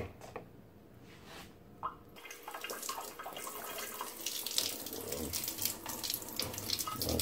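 Homemade pineapple peel wine poured through a strainer, a steady splashing liquid stream that builds after a quieter start and keeps running close by, with faint voice sounds early on.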